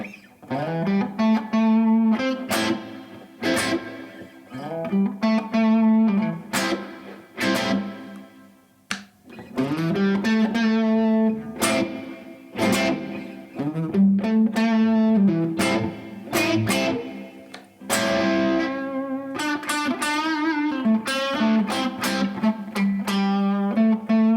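An electric guitar, a Les Paul with its humbucker pickups wired out of phase, plays chords and riffs with a thin, hollow, nasal tone, strummed steadily and at length without any voice.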